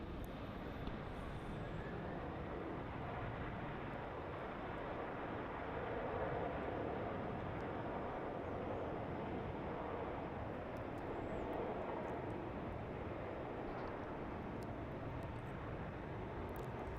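A Boeing 767 at Melbourne Airport produces a broad, steady roar of jet engine noise that holds at a moderate, distant level for the whole stretch, with no clear voices over it.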